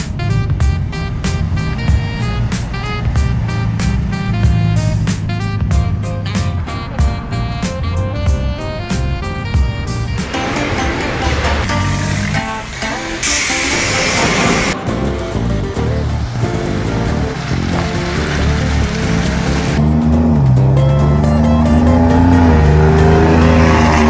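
Modified Ford Raptor truck engine tuned to sound like a diesel, revving loudly and continuously up close with deep rumbling and surging throttle blips, no talking.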